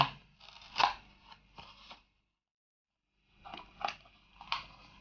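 The cardboard box of a Sven MK-150 microphone is opened up close, with crinkly rustling and crunching bursts, a brief silent pause in the middle, then more scraping handling.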